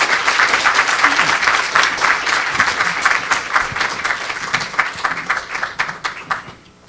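An audience at a university staff gathering applauds as the university president arrives, dense sustained clapping from a large crowd that thins and fades toward the end.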